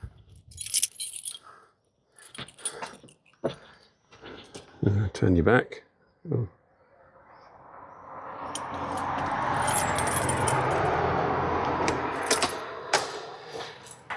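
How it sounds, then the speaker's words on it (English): Keys jingling at a front door, heard as short metallic rattles among close speech, followed by a longer broadband wash of noise as the door is opened. "Get my keys."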